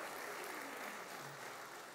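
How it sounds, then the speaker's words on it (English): Church congregation applauding during a service, a steady, soft wash of many hands clapping together at a distance, continuous and even throughout. "give the Lord a hand clap of praise"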